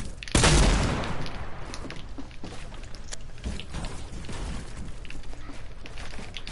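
Gunfire in a Fortnite match: a sharp loud burst at the start followed by scattered crackling shots and rumbling game noise over several seconds.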